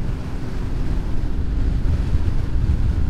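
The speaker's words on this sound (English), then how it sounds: "I hate wind!" Strong gusty wind roaring over the microphone of a VFR motorcycle rider commuting home in high winds, a loud, continuous low rumble with buffeting and no pauses.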